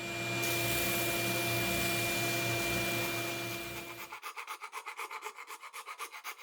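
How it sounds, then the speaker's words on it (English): A spindle sander grinds off melted material from a workpiece, a steady close rasping drone for about four seconds, then the motor cuts out and the sound breaks into a quick rhythmic whirring pulse as it spins down. "so I got a little bit of melting that I need to clean up on the spindle sander"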